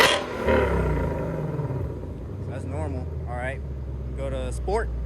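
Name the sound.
Shelby GT500 exhaust with catless race pipes, normal mode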